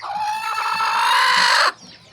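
A hen close to hatching her chicks gives one loud, drawn-out call that holds steady for under two seconds and then cuts off sharply, leaving faint background noise.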